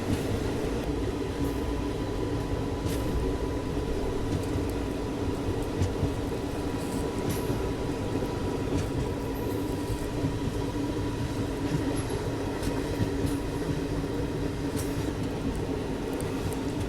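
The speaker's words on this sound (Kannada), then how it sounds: "ನಮ್ಮ ಟ್ರೈನ್ ಇಲ್ಲೇ ಓಡಾದತೆ" A train crossing the Pamban sea bridge to Rameswaram rumbles steadily along the tracks with continuous low roar and rattling, punctuated by occasional metallic clanks, close and loud throughout.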